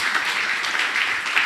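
A congregation at a ministers' retreat claps enthusiastically, a dense, close burst of many hands clapping at full volume with no voices over it.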